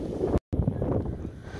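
Strong gusty wind at Mtatsminda Park in Tbilisi, Georgia buffets the microphone with low rumbling roar, briefly cutting out before the blustery noise resumes.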